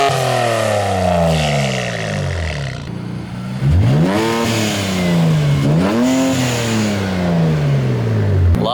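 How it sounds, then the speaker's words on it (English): A Nissan car engine revs up sharply twice, each rev a rising roar through a bumper-exit exhaust that settles back to a throaty idle, close by. "Give it a couple revs."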